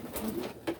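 A racing pigeon coos softly at close range, giving a couple of short, low, breathy coo notes within a brief moment in an otherwise quiet space.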